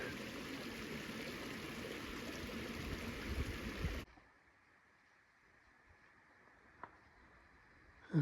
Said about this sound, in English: it's still got water flowing in